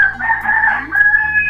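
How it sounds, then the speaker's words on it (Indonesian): A rooster crows loud and close, a single drawn-out call lasting about a second and a half with a brief break partway through. "Jadi ayam ni kirim salam lo bunyi itu"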